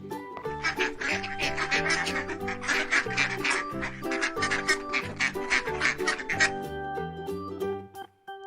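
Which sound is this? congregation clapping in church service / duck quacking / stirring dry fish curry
duck quacking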